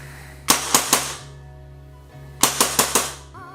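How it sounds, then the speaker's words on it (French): An Action Army AAP01 Assassin gas blowback airsoft pistol fires two quick bursts of three to four sharp cracks each, loud and close, with a steady hum in the background. "J'ai mis un petit peu de gaz dans cette magnifique réplique. On va voir comment ça tire."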